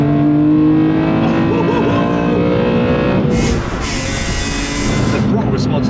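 Up close, a naturally aspirated BMW E46 M3 CSL with a carbon fibre airbox revs hard, its engine tone rising and holding before a harsher burst partway through, continuing loudly to the end.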